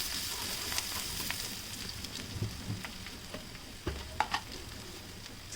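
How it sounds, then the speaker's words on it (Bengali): Chopped onion frying in hot mustard oil in a pan over a medium flame gives a soft, steady sizzle, broken by a few clinks and scrapes as it is stirred, fairly quiet and with no voices. "আর এখন দিয়ে দিলাম পেঁয়াজ কুচিটা দিয়ে পেঁয়াজটা আমি ভালো করে নেড়ে চেড়ে নিব"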